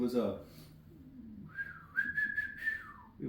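A man imitates a family signal whistle with his lips: a short rising-and-falling whistled phrase lasting about two seconds, clear and close, with brief speech before and after.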